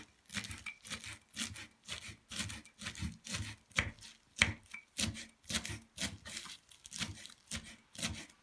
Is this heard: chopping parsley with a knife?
yes